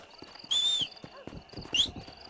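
Horse in the Red Dead Redemption video game, with a high whinny rising over soft hoofbeats, two neigh-like cries about a second apart, heard close with faint background talk.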